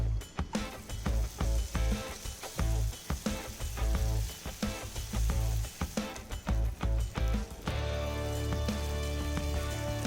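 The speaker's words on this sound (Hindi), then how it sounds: "जब तेल गर्म हो तो बैटर को एक एक करके डालिए।" Chaulbara rice dumpling batter, a western Odisha dish, frying in hot oil: a steady crackling sizzle with bursts of spattering, close and continuous, ending in a smoother hiss.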